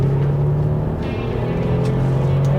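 An Audi TTS is thrown hard into a corner, heard from inside the cabin as a loud, steady engine drone with road roar that holds through the bend.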